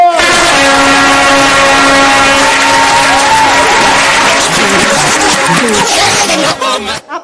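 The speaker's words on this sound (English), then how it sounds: "Give a round of applause!" Audience at an awards ceremony giving a round of applause, a loud, sustained roar of clapping and crowd noise mixed with horn-like tones, fading out at the end.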